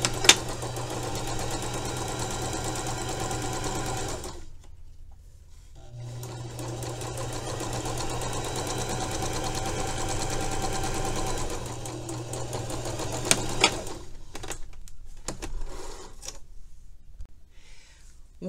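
A sewing machine stitches lace onto fabric jabots in two long, steady, humming runs, a short pause between them, then a few brief stops and a final burst of stitching, all close and fairly loud.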